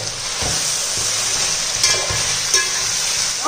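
Spices sautéing in a pan for biryani, a loud continuous sizzle with occasional scraping stirs and soft clinks of a utensil against the pan, no voices.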